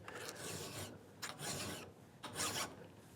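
A hand file is drawn across the bevel of a router plane cutter, three close, distinct rasping strokes of metal on metal, each a harsh scraping pass separated by short pauses.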